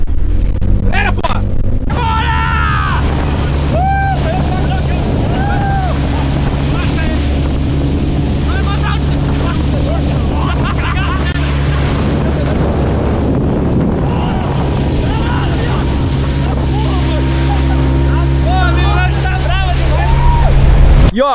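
Mini motorboat accelerating on open water: a steady engine drone with shifting pitch runs throughout, buffeted by heavy wind on the microphone and the wash of water, while people talk and shout over it.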